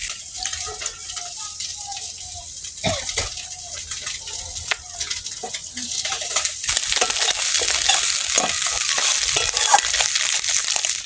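Fish frying in a pan with chili, onion and garlic, a steady hiss and crackle of hot oil with scattered clinks of stirring, growing denser and louder toward the end; no talk.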